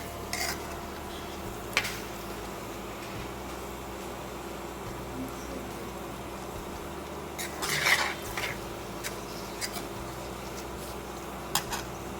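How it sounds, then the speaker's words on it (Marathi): Masala puree being sautéed and stirred in a pan for misal, a quiet low sizzle with occasional spoon clinks and scrapes against the pan, no talking. "त्यालाही तेल सुटेपर्यंत छान असं परतून घ्यायचं"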